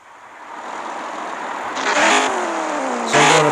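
A McLaren 650S engine in the racing game CSR Racing 2 builds from a steady drone into rising revs, with two sharper bursts as the pitch climbs, loud and close with no talking.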